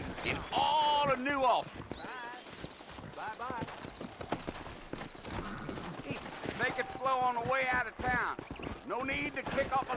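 Horses galloping in Red Dead Redemption, hooves clip-clopping in a steady rhythm through the whole stretch, loud and close, with people talking over them and a brief whinny.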